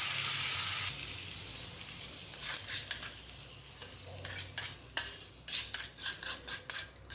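A spoon stirs a hot oil tempering of cumin, asafoetida and turmeric in a small pan, meant for pouring over chillies. Brisk metallic scrapes and clinks come in irregular bursts over a steady sizzle, close by, with no talking.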